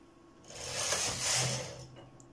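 Knitting machine carriage sliding across the needle bed in one smooth pass, a soft mechanical whirring rasp that swells and fades over about a second and a half, close and alone.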